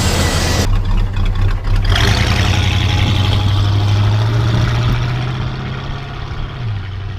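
The engine of a 1966 Buick Skylark GS convertible revs up from a rough idle into a loud, steady higher-pitched hold, then slowly eases back down and settles toward idle, heard close with no talking.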